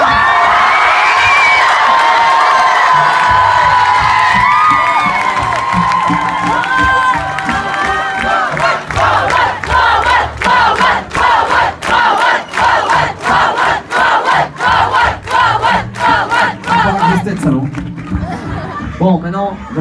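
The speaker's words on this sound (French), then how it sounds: "Faites du bruit pour nous." A loud concert crowd at a show cheers, whistles and shouts continuously, swelling into rhythmic chanting and clapping bursts in the second half.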